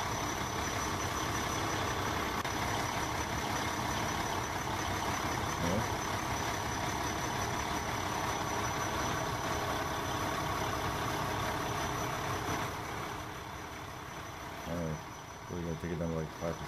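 Fire truck engine idling in the Emergenyc game, a steady low rumble that holds for most of the stretch before easing and breaking into short clunks near the end, with a voice talking over it.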